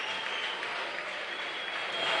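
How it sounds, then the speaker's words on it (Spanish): An audience at a fashionable party venue bursts into sustained, dense clapping, steady and loud throughout the short stretch with a slight swell at the end. "¡Aplaudid más, Aplauso, coño!"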